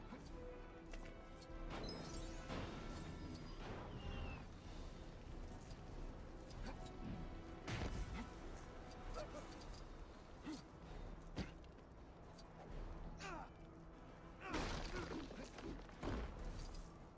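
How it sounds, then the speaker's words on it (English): Crashing and smashing of cars in the LEGO Marvel's Avengers video game, repeated loud impacts and crunches scattered over a busy, dense backdrop of game sound with music and effects throughout. "They're getting good at smashing up cars, though."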